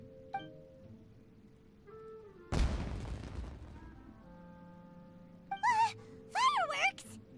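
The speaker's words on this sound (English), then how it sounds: "Was that an explosion? It sounded like fireworks." A single loud fireworks explosion goes off in Genshin Impact, a sharp booming burst followed by a decaying crackle, with ringing tones and brief vocal sounds around it.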